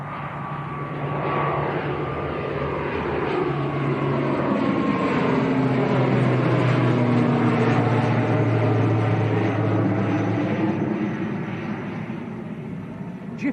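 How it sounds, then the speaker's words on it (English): An Aer Lingus ATR 72 turboprop bound for Belfast, heard at Manchester Airport as a steady, loud engine drone with a gliding propeller tone that swells through the middle and eases off near the end. "That was Aer Lingus to Belfast, ATR 72."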